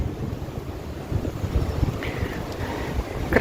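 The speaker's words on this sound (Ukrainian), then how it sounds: "О, вітер задуває." Steady gusting wind in a park in the Netherlands in early spring buffets the microphone with a low, rumbling roar that swells slightly toward the end, with no voices.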